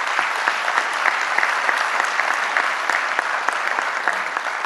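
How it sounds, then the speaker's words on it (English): A conference audience at a transportation industry point-counterpoint event gives a steady, continuous round of clapping at moderate volume, many hands at once with no voices standing out. "They deserve a round of applause,"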